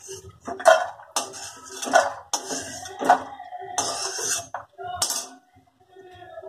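Roasted peanuts being scooped into a bowl, producing several clattering rattles and scrapes of nuts against the bowl and utensil, close and fairly loud, with brief pauses between scoops.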